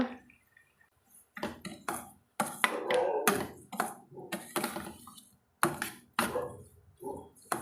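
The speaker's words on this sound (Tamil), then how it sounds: "இப்போ வந்து நம்ம வெள்ளை ரவை சேர்த்து வதக்கலாங்க" White semolina being sautéed and stirred in a pan for rava kichadi, with irregular scraping and clinking bursts of a spoon against the pan, separated by short quiet gaps, close up and with no talk.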